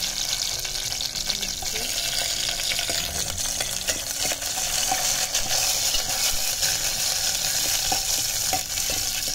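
Garlic and curry leaves tempering in hot oil, a dense crackling sizzle with sharp pops and occasional stirring clatter throughout, close and steady, no speech.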